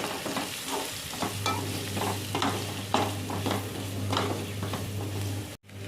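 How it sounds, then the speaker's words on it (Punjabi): Onions fry with salt, chili and packet masala for instant Maggi noodles. Steady close sizzling runs throughout, with a spatula scraping through the pan every half second or so, and there is no talk. "ਇਸ ਤਰ੍ਹਾਂ ਪਿਆਜ਼ ਨੂੰ ਭੁੰਨ ਲਾਂਗੇ ਜੀ ਇੰਨਾ ਕੁ ਬਰਾਉਨ ਹੋਣ ਤੱਕ"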